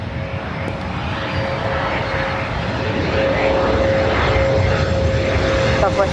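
An airplane at LAX airport produces a loud, steady engine roar that swells slightly toward the end, with voices faintly audible beneath it.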